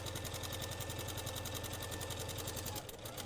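A sewing machine set to speed 3 stitches rapidly through several quilted layers, a loud steady mechanical whirring with fast even needle clatter, running continuously before briefly slowing near the end.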